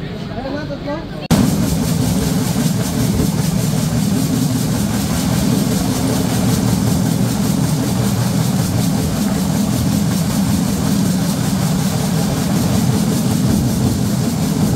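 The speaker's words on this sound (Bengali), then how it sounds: "ট্রেনটি প্রবেশ করলো জয়দেবপুর জংশন স্টেশনে।" Silkcity Express train rolling into Joydebpur Junction station on the Rajshahi to Dhaka run: a steady, loud low rumble of engine and wagons that fills the clip without a break after a short quieter opening.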